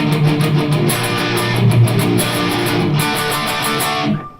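An electric guitar plays through a Marshall JCM 900 amplifier, loud sustained chords and notes with strong harmonic ring, alone without talk and cutting off at the end.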